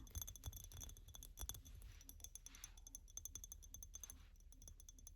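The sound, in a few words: tapping on a glass object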